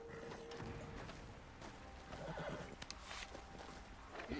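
Horses neigh and whinny in the Red Dead Redemption 2 online game, with clip-clop hooves and busy, steady game ambience throughout.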